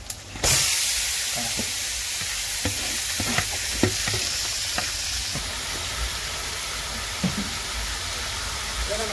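Marinated chicken pieces hit a hot pan with a sudden loud sizzle, then keep frying under a steady hiss while a spatula scrapes and knocks the pan in irregular strokes.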